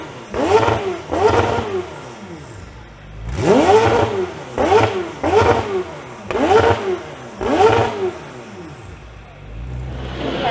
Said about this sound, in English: You've got the startup actually over here on the McLaren Senna.